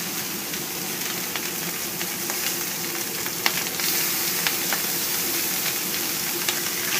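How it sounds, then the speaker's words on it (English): Long slices of bacon fry on a flat-top griddle with a constant close sizzle and crackle, broken by scattered sharp pops and spits of fat, and no talking. "So we're going to start this bacon right now."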